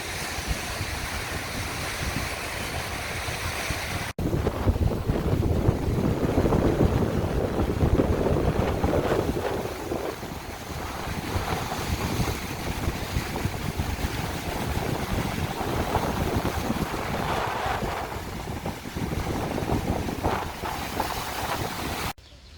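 Steady wind roars and gusts across the microphone for a long stretch on the seacoast of Bornholm island, with surf churning underneath and no voices.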